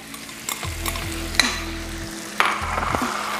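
Vegetables sautéing in a pan with deboned sardines added, a close sizzle with low rumbling hum and a few sharp clinks of a utensil against the pan.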